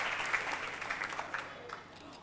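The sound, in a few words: audience applause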